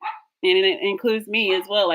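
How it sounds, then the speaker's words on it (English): A pet dog barks repeatedly in the background, a run of loud, closely spaced barks heard beneath a person speaking nearby. "sorry for the dog barking in the background."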